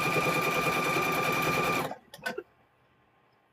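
A sewing machine stitches quilt squares in a fast, steady, close-up whir for about two seconds, then stops abruptly, leaving a few faint clicks and handling sounds.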